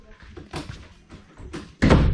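A door leading into a balcony room on Siquijor Island in the Philippines opens after a few soft handling sounds and knocks, ending in a sharp, close thunk as it swings and bumps.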